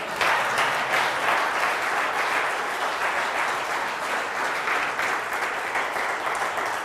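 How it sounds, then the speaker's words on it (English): An audience applauds at the close of a talk on understanding death, producing a continuous, even roar of clapping that carries at a consistent moderate level for about seven seconds without any voices. "All right, that's enough applause."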